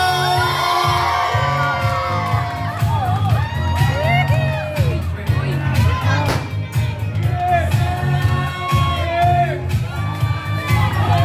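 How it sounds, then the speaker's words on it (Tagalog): A gender reveal party crowd shouts, whoops and cheers with scattered clapping, lively voices of adults and children overlapping near and far over a steady low musical thump for the whole stretch. "isang malakas na palakpakan ay kasamang hiyawan!"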